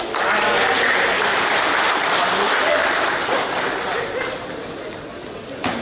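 A hall audience at a village-election information meeting in Karawang regency, Indonesia, claps in a dense, sustained wash that thins slightly toward the end.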